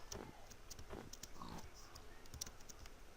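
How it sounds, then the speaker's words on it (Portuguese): Pigs oink faintly and intermittently in a Minecraft-style survival game, mixed with soft clicking and game ambience and no talking. "Estou ouvindo porco, hein?"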